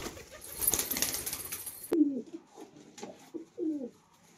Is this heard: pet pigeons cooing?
yes